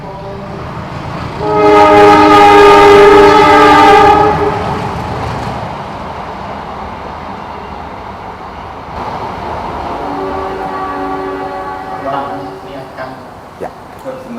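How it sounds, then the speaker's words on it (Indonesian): A loud train horn blasts for a couple of seconds near a talk show venue, followed by the rumble of a passing train and fainter horn tones later, with background voices. "Kereta."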